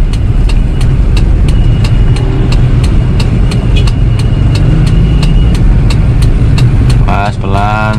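Toyota Kijang LGX 2.0 EFI from 2002 driving on the road, a steady loud engine drone with road rumble throughout, with a voice briefly talking near the end.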